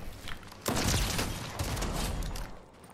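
Burst of gunfire in a Marvel video game, a dense rattling fusillade that swells suddenly and then tapers, moderately loud with no talk over it.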